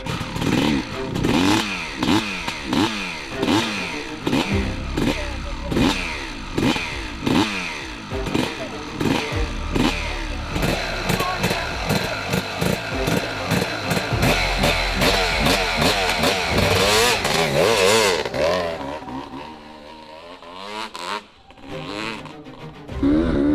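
Black Panther 600 two-stroke dirt bike engine revving hard, with rapid rising and falling revs and gear changes, loud and close from on board before dropping off near the end.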